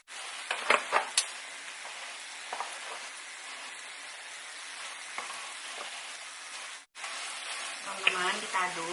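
About 700 grams of minced meat frying in a pan for homemade lasagna, a continuous loud sizzle with occasional stirring scrapes and a brief pause before the sizzling resumes.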